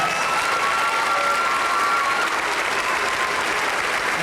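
Audience applause for the graduating class of 1997 at a high school spring band concert, a steady, full-room clapping that holds evenly throughout without letting up.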